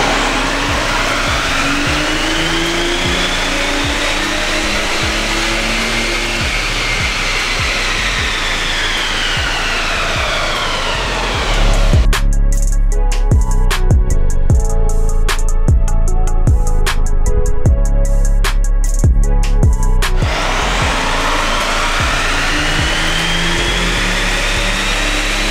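A BMW X5 35d diesel runs a pull on a Mustang MD150 dyno, the engine drone rising and falling in pitch as it climbs through the gears, with a loud, harsh, full-throttle stretch in the middle before easing back.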